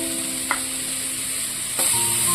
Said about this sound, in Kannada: ಆ್ಯಡ್ ಮಾಡಿಕೊಂಡು ಚೆನ್ನಾಗಿ ಫ್ರೈ ಮಾಡ್ಕೊಳ್ಳಿ